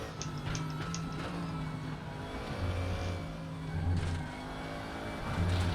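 A BMW M6 GT race car engine in a racing video game drones and revs through gear changes, steady and moderately quiet, with the pitch rising and falling as it accelerates, and no voices.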